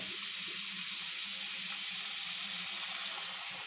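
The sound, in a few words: water poured over salt cod to soak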